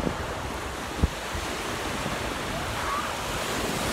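Ocean waves and surf at Orange Beach, Alabama, a continuous broad wash of breaking water with wind, loud and steady, with one brief thump near the start.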